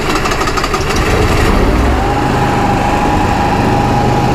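An Onan generator engine cranks briefly, then catches and settles into a loud, steady run with a high, even whine.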